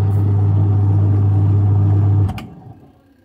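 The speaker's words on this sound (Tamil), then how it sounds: "அந்த சவுண்டு வரல, நல்லபடியாக ஓடுது, எந்த பிரச்சனையும் இல்லை, ட்ரையரும் ஓடுது" LG semi-automatic washing machine running after a gearbox replacement, a loud steady motor hum with strong low tone for about two seconds, then spinning down and fading out.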